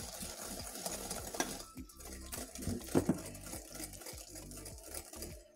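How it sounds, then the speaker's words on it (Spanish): Egg yolks whisked with sugar in a bowl for pastry cream, a steady quick patter of the whisk against the bowl running throughout at moderate, close level. "La vamos a batir así un poquito."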